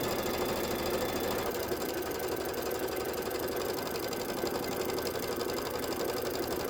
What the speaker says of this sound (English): I'm just going to go ahead and hit start and let it stitch directly on my muslin